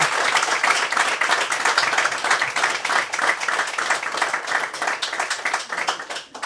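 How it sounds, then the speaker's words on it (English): Sustained audience applause at a bar panel discussion, dense clapping from a crowd throughout, steady and fairly loud before fading slightly at the end. "Ladies and gentlemen, can we give a big round of applause"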